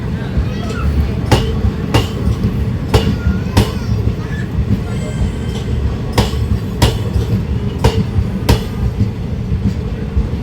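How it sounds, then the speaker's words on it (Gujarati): Inside the AC chair car of the Veraval–Surendranagar InterCity Express 19120, sharp wheel clacks over rail joints punctuate a loud, constant rolling rumble, arriving in irregular pairs and singles. "આ ટ્રેન ભાવનગરથી પાલીતાણા જાય છે."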